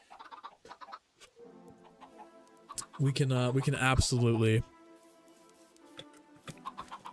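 Chickens cluck and squawk loudly in a video game farm coop, a burst of harmonic clucking standing out between stretches of someone talking over quieter game sounds.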